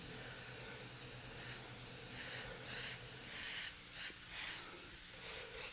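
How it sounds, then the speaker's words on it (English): A steady hiss of candy paint mixed with a touch of reducer sprays as a very light mist from a distance onto a fantasy art piece, continuous and fairly loud with slight surges. "So now I will spray it far away just to have a very,"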